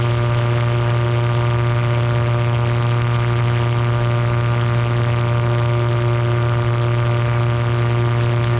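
A GT500 light aircraft's engine drones loud and unbroken while climbing out at 5,500 RPM, a steady tonal roar with strong harmonics and no talking.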